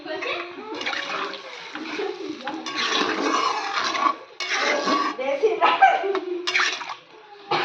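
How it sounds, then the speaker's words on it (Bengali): Water splashes and pours into a cooking pot in uneven gushing bursts with brief pauses, close and fairly loud, while a person talks alongside. "এবার আমি এখন জল দিয়ে দিচ্ছি"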